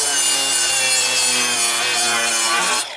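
A power saw cuts steadily for about three seconds, a bright, harsh continuous grinding whine close by that stops abruptly at the end; no talk.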